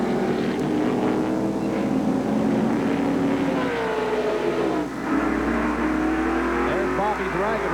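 Race cars from a 1997 Busch Grand National North series race at Watkins Glen International roar past in a loud, continuous engine drone whose pitch sweeps as they pass, with a commentator talking over it.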